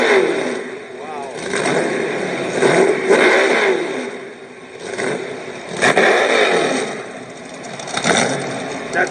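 A 347 stroker engine with 11.5:1 compression, a hydraulic roller cam and piston ring mods revs hard toward 7,000 RPM, loud and close, surging and falling in repeated waves with voices over it.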